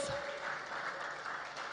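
Applause for a banking award winner at an African leaders awards ceremony, a dense, even wash of clapping, fairly faint and sustained without pause.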